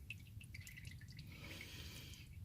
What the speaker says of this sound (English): I'm going to let this drip for a good little bit